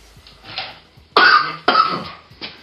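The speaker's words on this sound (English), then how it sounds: "Cough a little bit." Two sharp, fairly loud coughs close together near the middle, preceded and followed by softer breathy throat sounds.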